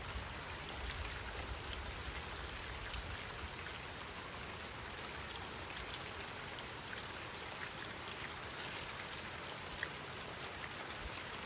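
Steady rain falls at a lake during a mild thunderstorm, a dense, even hiss of drops on water and surfaces that holds at a constant level throughout, with no voices over it.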